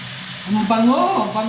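Stir-fry in a pan sizzles steadily as soy sauce is stirred in. A voice briefly speaks over the frying.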